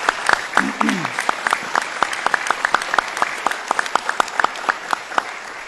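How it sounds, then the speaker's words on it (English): An audience at a community reconstruction meeting in Margaretville applauds the mayor and supervisor with steady, dense clapping throughout. A brief voice is heard near the start. "Let's give the mayor and the supervisor a round of applause."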